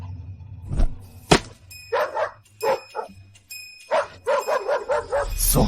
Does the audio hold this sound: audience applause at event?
no